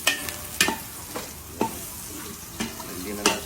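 Rice stir-fried in a pan for sinangag gives a faint sizzle, broken by scattered scraping taps of a spatula turning the grains at an irregular rhythm, with no voices.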